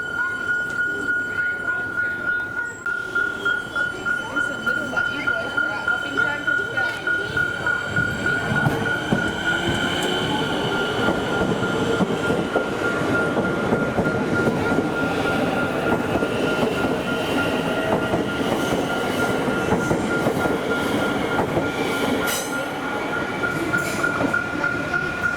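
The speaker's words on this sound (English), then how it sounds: "This Werribee train is very late right now." A Werribee line train rolls through Seddon station at a level crossing, a steady loud rumble with rhythmic wheel clatter and some squeal lasting the whole stretch, while a crossing bell rings persistently in the background.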